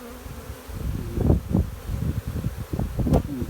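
Honey bees buzz around a hive in a low, wavering drone, close to the microphone, with soft rustling and bursts of wind noise.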